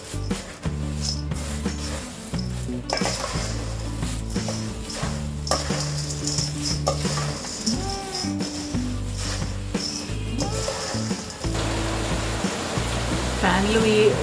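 Dry, rustling stirring of a murmura chivda mix of puffed rice, roasted gram, fried cashews, chana dal and peanuts in a pan, a continuous close crackle and scrape over steady background music.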